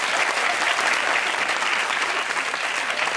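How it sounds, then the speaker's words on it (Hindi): Studio audience standing and applauding at the close of a Pakistani TV talk show, a dense, steady wash of clapping held at even loudness throughout, with no voices over it. "खड़े होके तुम्हारे लिए तालियां"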